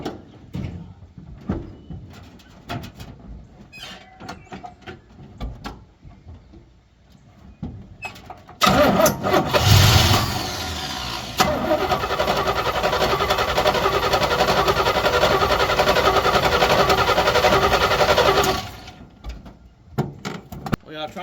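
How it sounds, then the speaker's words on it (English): Small block V8 with a Holley carburetor cranking and catching, then running loud and steady at idle for about ten seconds before cutting off, following quieter shop clatter and brief talk. "See if it'll start."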